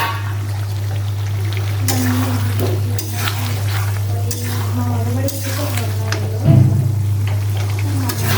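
Potatoes added to hot oil in a pot for Bengali-style pork biryani, a continuous sizzle with stirring scrapes and a low steady hum underneath, close and without talk.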